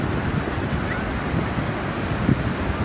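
Pacific Ocean surf rolling onto the beach at Acapulco, Mexico, a steady broad wash of waves with wind buffeting the microphone, constant and fairly loud with no clear breaks.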